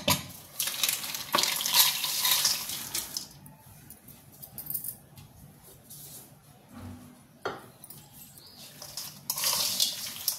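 Okra frying in a pan with onions, cumin and mustard seeds, stirred now and then; a steady close sizzle with scraping stir strokes and brief clattering bursts, no talking.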